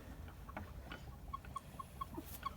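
Faint clucking from several chickens inside a mobile coop, a run of short, quiet calls close together over a low background hum.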